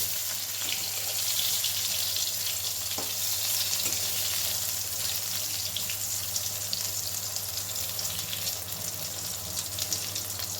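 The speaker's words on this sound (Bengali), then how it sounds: "ভালো করে উল্টে পাল্টে বেগুনগুলো লাল করে ভেজে নিচ্ছি" Constant hissing sizzle of eggplant slices frying in hot oil, close and steady throughout, with a low hum underneath and occasional faint clinks.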